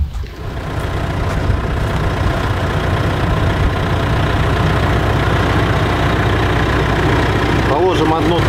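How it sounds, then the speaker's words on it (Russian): A jeep engine starts near a lakeside carp fishing spot and settles into a loud, steady, rumbling idle that runs on to the end, with faint voices in the background. "Иди-ка джип заводи."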